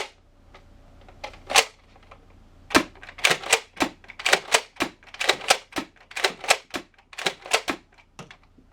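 Nerf Alpha Trooper toy blaster loaded with Elite darts, cycling and firing as a string of sharp, close plastic clacks and snaps in a quick, irregular rhythm with short pauses between groups.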